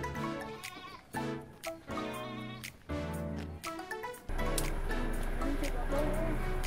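Goats being taken by boat to Nabas bleat in a string of short, nasal calls with brief gaps, followed by a louder stretch of noisy rumbling background.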